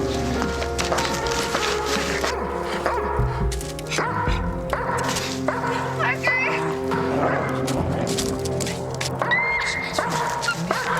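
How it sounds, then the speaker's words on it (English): Dog barking with yips and whimpers, mixed into a tense scene with background music and other sounds; voices talk nearby over the dog's intermittent vocalizing. "Nice dog."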